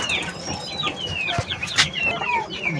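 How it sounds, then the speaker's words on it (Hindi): A caged Lasani rooster and hen cluck and chirp close by in steady, overlapping calls, with a louder squawk near the middle. "ये लसानी मुर्गा मैंने साथ लगाया हुआ है, और ये माशाल्लाह मुर्गी है जी"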